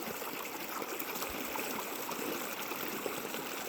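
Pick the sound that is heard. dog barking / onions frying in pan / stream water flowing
stream water flowing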